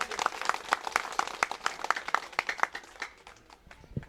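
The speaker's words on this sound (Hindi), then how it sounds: "तो जोरदार ताली से अभिनंदन कीजिए" An audience at a farewell ceremony for a nurse claps loudly in a fast, irregular run of sharp hand claps that thins out toward the end.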